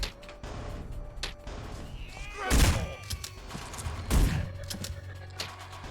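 Gunfire in the video game Manhunt: two heavy, booming shots a couple of seconds apart, fairly quiet overall, with someone talking over the game audio.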